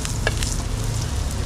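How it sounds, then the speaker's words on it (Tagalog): Garlic sizzles in a hot pan during stir-frying, a steady close crackle with a few quick scraping stirs. "Lagay na po natin yung bawang."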